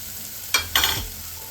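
Snake gourd bhaji being stirred and sautéed in hot oil in a pan: two quick scraping stirs with a soft sizzle underneath, close and fairly loud, no voices.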